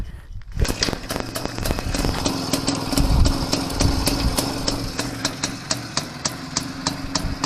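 The IZH-49 motorcycle with sidecar turns over and starts, then idles close by in a loud, uneven two-stroke putter with sharp regular popping beats.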